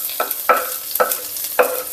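Onions sizzling in a hot pan for chilli con carne, stirred in four quick, scraping bursts over a constant close frying hiss.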